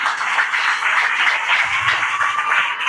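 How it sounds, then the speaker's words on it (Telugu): Sustained audience applause at a parents' awareness program run by a children's psychologist, a steady dense wash of clapping filling the whole stretch with no gaps. "క్లాప్స్ కొడదాం."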